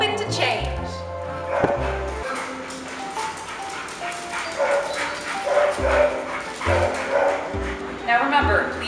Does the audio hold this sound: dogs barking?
yes